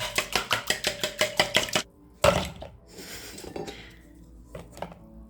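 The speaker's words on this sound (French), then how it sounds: "Et je bats mon mélange." A whisk beats crêpe batter with brown sugar in a bowl: a quick run of about a dozen sharp, even rhythmic clacks, then a pause, one louder knock and scattered softer clinks.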